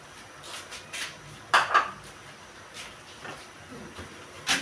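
Utensil scraping and clinking in a pan while tomato is stirred into chicken adobo with pineapple, a few brief clatters over a quiet background.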